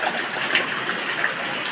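Water gushes steadily from a tap while it is being stored in containers, a continuous close hiss of flowing water with no voices.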